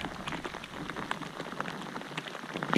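Rain pattering steadily onto the surface of Lake Shasta around a fishing kayak, a dense hiss of close, continuous drops with no voices.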